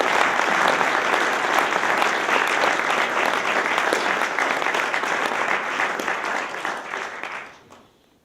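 Sustained crowd applause at a journalism awards ceremony, thick, even clapping that holds for several seconds, then tapers and fades out quickly at the close.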